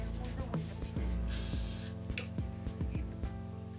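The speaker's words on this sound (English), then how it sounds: "And just spraying it then to smooth it out as you're going." Hairspray hisses from an aerosol can onto a styled wig in one steady burst lasting about half a second, close and loud over a background of light handling noises.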